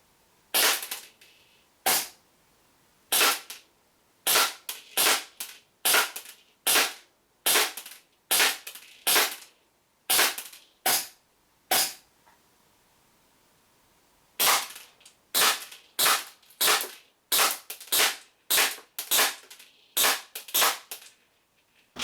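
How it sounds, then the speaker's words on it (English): WE P38 gas blowback airsoft pistols, a compact and a standard longer-barrel model, firing BBs on a range test: a steady string of sharp, loud cracks, pausing briefly midway before a second quick series of shots. "We'll shoot the compact first, and then we'll shoot the normal model with a longer barrel."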